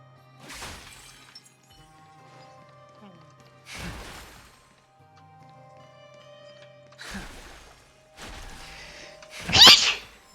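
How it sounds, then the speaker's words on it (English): A game character in Honkai: Star Rail sneezes once, loud and sharp, near the end, after several breathy bursts of voice over quiet background music. "Oh my god, I sneezed. That was a sneeze."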